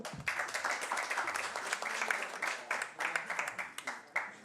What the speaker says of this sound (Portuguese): Por favor, palmas.